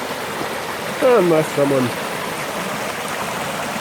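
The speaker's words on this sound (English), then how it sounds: "We're traveling up Dora Creek." Dora Creek flows in a steady, soft watery wash heard from a moving vantage up the creek, with a voice briefly talking over it before the gentle rushing carries on alone.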